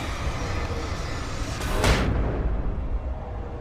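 A broad, heavy boom rolls out from an explosion on impact in the video game Alan Wake, rising over a constant rumbling game ambience and then fading, with no voices.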